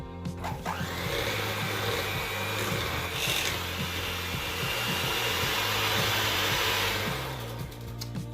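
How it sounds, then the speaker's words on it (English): Small electric hand blender whirring steadily while mixing chocolate chip cookie dough in a home kitchen, a loud continuous motor whine with slight pitch wobble lasting the whole stretch, no talking over it. "So I'm just gonna go ahead and get the little hand blender."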